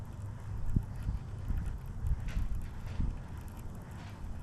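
Cold wind blows outdoors by the water on a late-summer pike fishing outing, a steady low rumbling buffet against the microphone with gusty swells and no talking.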